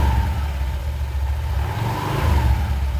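A Honda Vario 125 scooter engine revs smoothly as the throttle is twisted, a steady close hum swelling slightly without hesitation.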